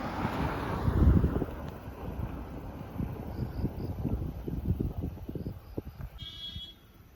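Strong wind sweeps across a hillside of cardamom and tea plantations, a steady, gusty rumble buffeting the microphone for several seconds.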